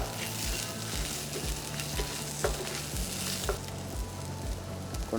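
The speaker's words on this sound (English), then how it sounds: "in a mild, probably about medium flame, I'm just sauteing it" Coriander seeds and curry leaves sauté over a medium flame in a pan, giving a dense, even sizzle and crackle with occasional stirring scrapes, close and steady throughout with no voices.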